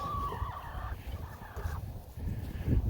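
Chickens call out in a few wavering, gobbling bursts outdoors on a homestead, moderately loud over low rumbling background noise, with no one speaking.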